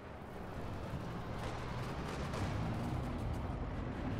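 Artillery and mortar fire, Panzerwerfer rockets included, in the World War II strategy game Company of Heroes 2, forms a dense, continuous rumbling roar of overlapping blasts that stays loud and steady throughout.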